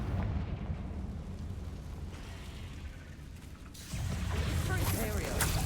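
A Confringo spell detonates in Hogwarts Legacy with a dense, rumbling blast that holds steady for several seconds and then surges louder near the end.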